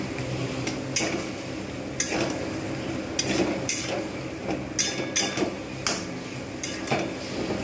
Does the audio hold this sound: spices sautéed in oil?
yes